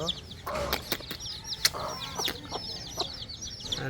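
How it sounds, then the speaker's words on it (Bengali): A hen clucks repeatedly while small chicks peep in quick, high chirps throughout, close by, with occasional sharper calls. "খালামণিদের অনেকগুলো বাচ্চা তুলছে মুরগি ছোট ছোট"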